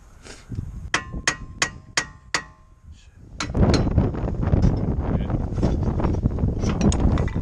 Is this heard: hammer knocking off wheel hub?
yes